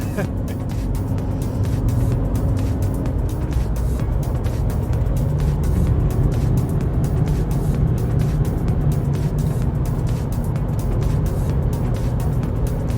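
Steady engine rumble and road noise fill the cabin of a car driving along a road, heard from inside; the drone is constant and fairly loud, with no clear talk over it.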